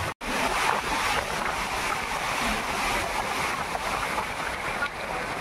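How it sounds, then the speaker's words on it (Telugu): A constant roar of floodwater rushing through open dam gates on the Musi project in Telangana during heavy rain, loud and steady, with wind buffeting the microphone. "పడుతున్న అలలు ఇవి నీళ్లు కావు,"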